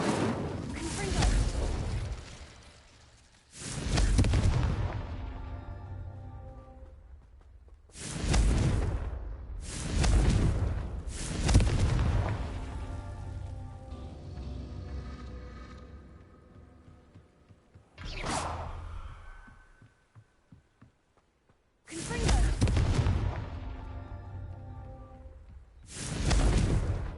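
Spells Incendio and Confringo cast in a video game, heavy whooshing blasts with booming, crackling tails, repeated several times with gaps of near silence between them, loud and close.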